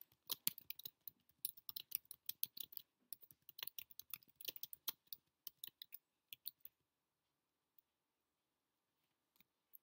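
Rapid, close clicking of fingers typing on a computer keyboard runs steadily for about six seconds, then stops, leaving near silence with one or two stray taps.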